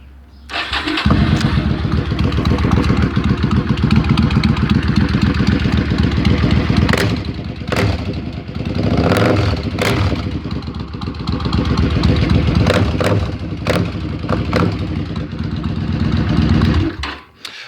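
A 2001 Suzuki Marauder VZ800 motorcycle engine cranks, fires and settles into a steady, deep, loping idle close by, staying loud throughout with a few faint clicks over it, then cuts off at the end.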